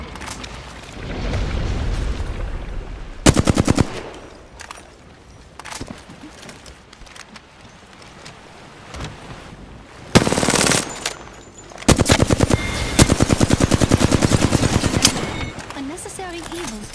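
Video game gunfire from Apex Legends during a ranked match: repeated loud bursts of rapid automatic fire and single shots, with short sustained volleys around quieter stretches of game ambience.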